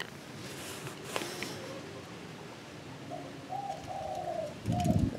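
A spotted dove, a decoy bird from Phu Yen, coos several times in soft, low, rounded calls in the latter half, fairly close, over faint outdoor background noise.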